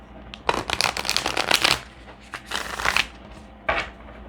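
Tarot cards are riffled and shuffled in three quick bursts, a crisp fluttering rattle up close with short pauses between.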